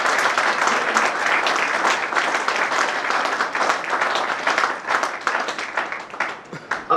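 Loud audience applause welcoming the team behind a stage play, a thick burst of many hands clapping that starts strong and gradually thins into scattered, uneven claps near the end.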